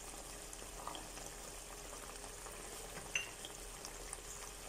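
Beef picadillo with raisins and sugar simmers faintly in a pan, with a soft, continuous low sizzle, a light stirring scrape and a single small click.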